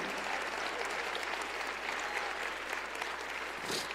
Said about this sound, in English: Let's give the Lord a good hand clap right now.